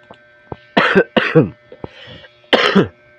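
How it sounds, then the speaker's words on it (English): A series of harsh, close coughs in quick bursts, three or four rough hacks separated by short pauses, with no talking. "I'm sorry, I have a cough."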